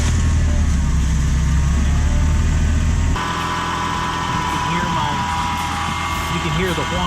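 A 1988 Toyota 4x4 van engine idles with a steady low rumble; partway through the note shifts and a thin, high whine rides above the idle, alongside faint chirping background sounds.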